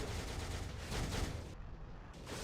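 Sharon Rogers spins and fires in the Marvel Future Fight mobile game, a quiet rapid rattle of gunshots that thins out briefly midway and then resumes, with no speech.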